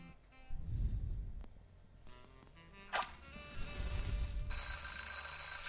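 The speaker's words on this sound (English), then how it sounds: "I'm, just testing the smoke detector." Smoke detector alarm set off in The Journey Down point-and-click adventure game, a steady high electronic tone starting partway through and holding loud to the end over low background rumble and a brief clatter.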